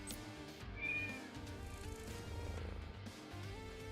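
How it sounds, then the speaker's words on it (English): A cat meows in the video game SaGa Emerald Beyond, a short clear call set over a soft, sustained game music background, with no speech. "I didn't know you had yourself a kitty for Mina."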